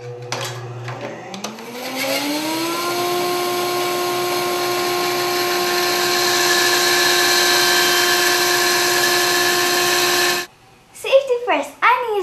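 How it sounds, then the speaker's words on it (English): Power tool cutting a rough wedge shape from a piece of figured walnut, a loud steady whine that spins up over a couple of seconds, holds for about eight seconds, then cuts off, followed by brief voice sounds. "I'm going to go ahead and just cut out the rough wedge shape"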